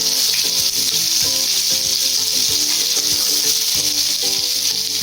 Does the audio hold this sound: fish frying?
yes